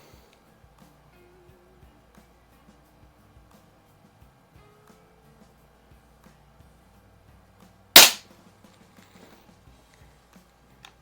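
Gamo Compact air pistol firing an RWS R-10 match pellet at a target, a single sharp loud crack in an otherwise quiet setting with faint small clicks around it.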